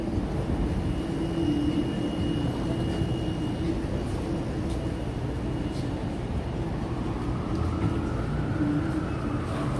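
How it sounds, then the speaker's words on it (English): A helicopter flies over New York City near the Flatiron area during a sunset street walk, its steady rumbling drone carrying on for the whole stretch, mixed with constant traffic and city noise. "And we hear a helicopter in the sky."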